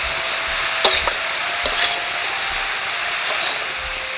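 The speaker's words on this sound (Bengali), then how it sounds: "এর মধ্যে অল্প পরিমাণ নুন আর হলুদ দিয়ে বেশ কিছুক্ষণ চিচিঙ্গাটাকে ভেজে নিতে হবে" Ridge gourd fries with salt and turmeric in a wok, a constant hissing sizzle up close, punctuated by a few clattering stirs of the spatula.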